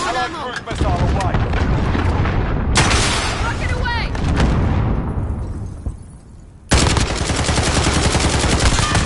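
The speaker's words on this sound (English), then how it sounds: "Allied cruise missile away" Cruise missile strike in Call of Duty Modern Warfare, a loud dense roar of blasts and rattling gunfire that fades and then bursts back in at full force, close and continuous.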